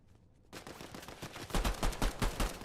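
Rapid pistol shots in a video game ring out loud and close, about six sharp cracks in quick succession after a short quiet start, with no talk over them.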